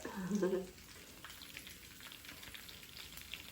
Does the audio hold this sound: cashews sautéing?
yes